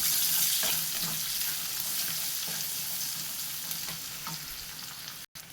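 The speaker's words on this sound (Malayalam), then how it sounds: "ഇനി ഇത് നല്ലോണം ഒന്ന് ഇളക്കി ഒരു 2 മിനിറ്റ് ഒന്ന് വഴറ്റിയെടുക്കാം" Chicken sausage and curry leaves sauté in a hot pan, producing a continuous loud sizzle broken by periodic scraping stir strokes, close and with no voices.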